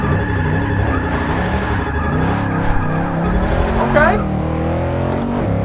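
A Holden VL Commodore on drag tires slides in Forza 6, its engine droning steadily with a sustained tire squeal and skid throughout, and a brief rising squeal near the end; a voice speaks briefly.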